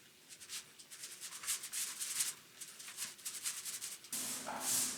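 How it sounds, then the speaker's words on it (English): A foam brush spreads a coat of finish across wooden closet shelves, making soft, rapid rubbing strokes in an uneven rhythm, close and fairly quiet, with no one speaking. "I'm gonna put the second coat and the other first coats on with a foam brush."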